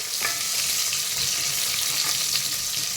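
Whole shallots and garlic sizzle and fry steadily in a hot pan, a continuous crackling hiss with faint stirring scrapes, close and fairly loud, no voices.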